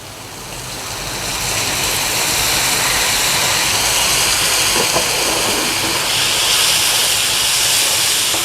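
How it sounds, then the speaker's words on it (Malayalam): Soy sauce poured into a hot pan of Andhra chicken curry base sets off a loud, steady steaming hiss that swells within the first second or two and keeps roaring without a break. "അടുത്തായിട്ട് നമ്മുടെ സോയാ സോസ് നമുക്കിതിലേക്ക് ഒഴിച്ചു കൊടുക്കാം."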